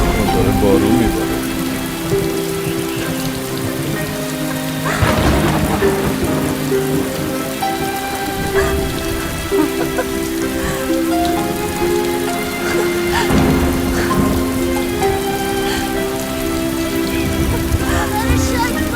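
Heavy rain falls steadily and close by, with a faint low rumble of distant thunder beneath it and a sustained tonal musical bed throughout.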